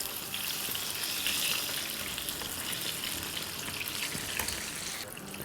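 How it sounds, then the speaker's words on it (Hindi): Pakoras frying in hot oil after being flipped, a dense, continuous loud sizzle and crackle with no pauses and no talking. "पकौड़ों को पलट देते हैं।"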